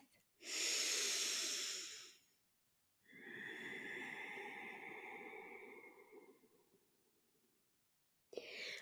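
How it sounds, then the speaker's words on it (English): A slow, deep yoga breath, a long airy inhale followed after a pause by a longer, softer exhale, close and alone in a quiet room. "Take another full breath."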